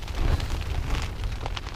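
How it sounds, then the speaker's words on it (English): Wind and rain batter the outdoors at a winter camp on Pendle Hill, a dense, steady wash of rushing noise and pattering drops, loud and close throughout the short stretch. "In this very windy and rainy weather."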